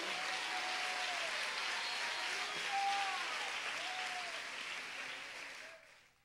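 A congregation at a church youth convention applauds steadily, a dense, even wash of many hands clapping that holds for several seconds before fading out, with faint voices beneath.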